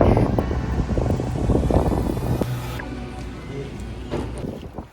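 Strong wind buffets the microphone during a road trip across Canada, a loud, continuous rushing roar that shifts in texture partway through.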